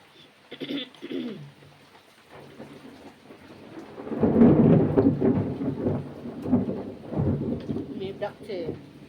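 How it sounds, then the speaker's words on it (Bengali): Thunder rolls in as a low, swelling rumble during a late-May rainstorm, building after a few seconds and lingering loud and near, with bird calls at the start and rain in the background. "মেঘ ডাকছে বন্ধুরা, আরও বৃষ্টি হবো।"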